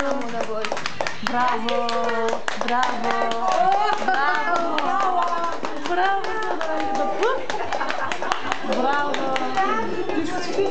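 Steady hand clapping at a first birthday dance party, a fast repeated rhythm continuing throughout alongside music, while adults and children talk and cheer over it.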